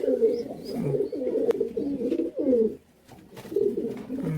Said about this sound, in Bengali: এগুলো সব পাকিস্তানি কবুতর